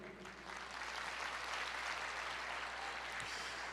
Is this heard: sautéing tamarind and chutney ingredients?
no